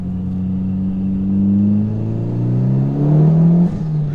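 2011 Mitsubishi Evo X GSR engine accelerating, a loud close interior drone whose pitch climbs steadily under throttle, with a short dip near the end as it shifts, no talk.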